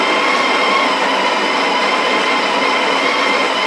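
A coffee burr grinder spins empty with no beans left, giving a loud, constant whirring roar with a harsh, noisy edge. It runs alone for several seconds without talk.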